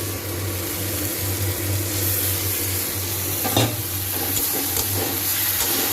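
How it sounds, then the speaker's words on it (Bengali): Fried spice paste for a ray fish curry sizzles and hisses loudly as a little water goes into the hot pan, a steady close crackle with brief stirring scrapes. "এবার আমি দেবো আর একটু সামান্য জল।"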